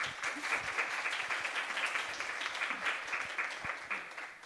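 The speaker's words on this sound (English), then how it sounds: "How about another round of applause?" Applause from an audience at a lecture on computers as archive and agent, a continuous patter of clapping that holds steady then tapers slightly toward the end, moderately quiet and with no voices.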